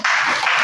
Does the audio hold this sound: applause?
yes